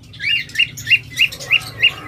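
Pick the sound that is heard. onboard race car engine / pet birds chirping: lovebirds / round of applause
pet birds chirping: lovebirds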